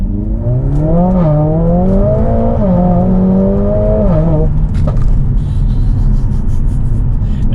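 A Stage 2 Mercedes-AMG A45 S revs hard under acceleration, the engine note climbing through gears with short dips at each shift, then settling into loud, close road and wind roar.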